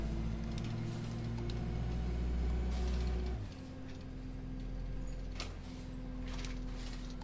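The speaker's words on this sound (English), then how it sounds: "I think there's some new rattle sounds in there" A bus engine in the game OMSI 2 drones and shifts pitch partway through, with scattered light rattles and clinks breaking through the steady hum.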